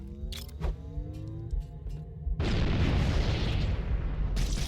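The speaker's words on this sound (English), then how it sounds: "Throw another grenade." A grenade goes off in Halo: after a few seconds of quieter game sounds and small clicks, a loud, broad blast erupts and rumbles on to the end of the clip.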